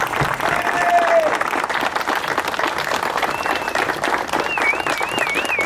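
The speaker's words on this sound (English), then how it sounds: "A round of applause" Crowd applause at an 80th anniversary D-Day ceremony at a museum of American armor, honoring veterans: steady, dense clapping sustained throughout, with faint whistle-like tones drifting above.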